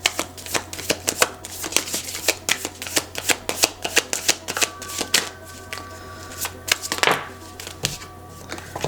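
Tarot cards are shuffled and drawn by hand in a rapid run of crisp riffling flicks and slaps, close and fairly loud, thinning into a few softer card sounds near the end.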